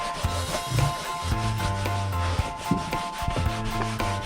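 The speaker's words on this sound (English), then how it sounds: "And then basically you just good old rub it all in." A sponge rubs cleaner into a Mercedes-Benz leather seat, producing steady scrubbing and squeaking strokes in a continuous back-and-forth rhythm, fairly quiet and close, with no talking.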